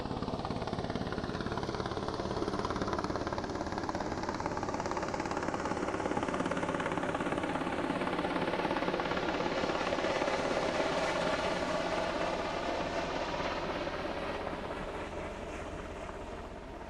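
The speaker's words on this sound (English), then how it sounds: "You can probably hear it, but I'll direct your attention to the sky in MH-60R Seahawk" A Royal Australian Navy MH-60R Seahawk helicopter flies past during a national citizenship and flag-raising ceremony, its loud, steady rotor thump and engine whine filling the air and fading slightly at the end.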